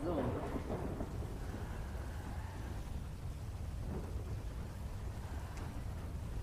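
Steady rain and a thunder rumble from a GTA roleplay game, wet city streets, a continuous wash of rainfall with a low rolling boom near the start, filling the whole stretch without speech.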